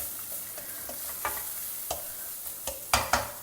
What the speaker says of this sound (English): I am adding a small pinch of turmeric powder. Stir it all well together.